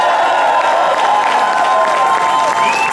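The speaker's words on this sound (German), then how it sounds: "Ich will hören mal einen echten Applaus." A large outdoor crowd on a town market square in Fulda claps and cheers continuously for several seconds, a dense wash of applause with scattered shouts and whistles, loud and sustained throughout.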